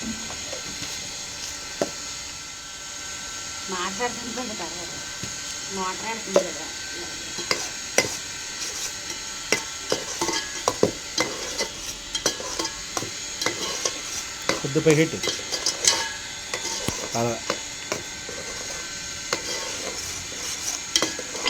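Onion paste cooking in a pan with coarse salt and turmeric added: intermittent stirring scrapes and soft sizzling, with occasional utensil clinks against the pan, moderately close and without talk.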